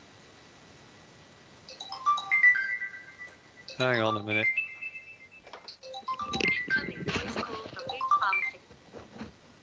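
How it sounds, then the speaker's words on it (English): A synthetic electronic phone ringtone plays a quick chiming melody of stepped tones, close by, with a voice talking briefly over it partway through. "That's a phone tone from the future."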